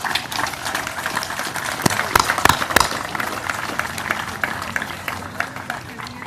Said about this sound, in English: Let's give a round of applause for everybody involved in this project.